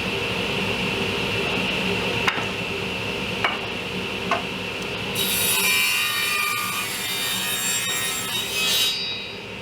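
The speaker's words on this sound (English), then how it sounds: "Now I'm cutting 4 supports for the top and bottom rail on the sides and the back." Wooden supports for a bench seat's top and bottom rails are being cut, producing steady rasping sawing with a few sharp knocks. Partway through, a brighter, higher whine joins in up close.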